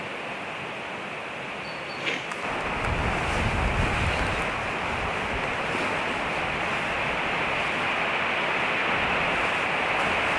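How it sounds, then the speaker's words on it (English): Strong wind roars continuously across the microphone, a dense, unbroken rushing that swells after the first couple of seconds and stays loud throughout. "it's quite windy today"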